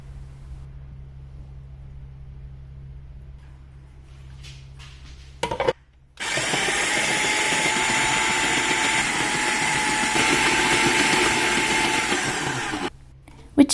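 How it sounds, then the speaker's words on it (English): An electric whisk whips thick strained yogurt with sugar and kesar. After a few seconds of quiet room tone, a loud, steady motor whir runs for about seven seconds and then cuts off. "and I set the whisk"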